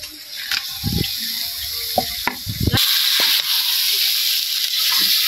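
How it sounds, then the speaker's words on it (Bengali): Water poured into a pan holding a fish head and eggplant, a steady hissing rush with faint sizzling that starts after a few soft knocks and clinks of the pan and continues unbroken to the end. "মাছের মাথা দিয়ে লাড়াছাড়া দিয়ে জল দিয়ে রেখে দিলাম।"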